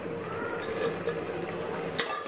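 Vegetable curry with tomatoes and fried potatoes cooks in hot oil in a pan, a soft steady sizzle with gentle stirring and a light utensil tap near the end.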